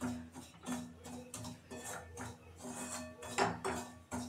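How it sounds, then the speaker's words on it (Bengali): Semolina with turmeric and salt fries in a pan, stirred with a utensil that makes repeated quiet scraping and clinking strokes against the metal, soft and close with no talk. "দিয়ে একটু ভালো করে ভেজে নেব।"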